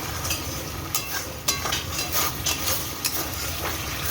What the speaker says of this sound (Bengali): চিকেনের মশলা কষা চলছে